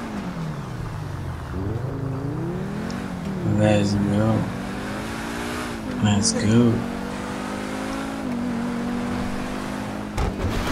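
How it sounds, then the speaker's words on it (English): Pegassi Zorrusso supercar engine in GTA V, revving up and down in repeated surges with rising and falling pitch, heard under a player's talk. "Okay, this car is fast."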